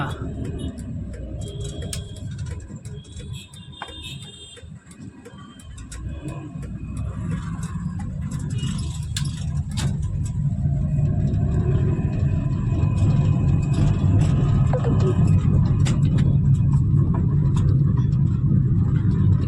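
A motorbike rides along a road in second gear, its engine rumble and road noise building to a steady, loud drone in the second half, with traffic sounds passing nearby.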